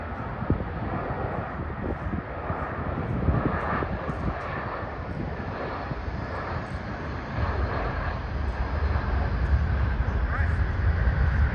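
Solomon Airlines Airbus A320 taxiing past at Sydney airport, its engines giving a steady loud roar that swells slightly as it nears, with wind buffeting the microphone.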